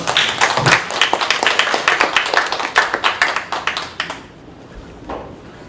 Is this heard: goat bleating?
no